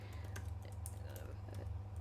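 A computer keyboard is being typed on in quick, uneven bursts of soft clicks beneath a steady low hum.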